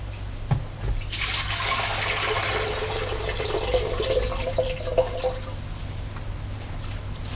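Water drained off boiled lasagna noodles in a home kitchen gushes and splashes steadily into a sink for several seconds, fairly close and moderately loud, with no talking.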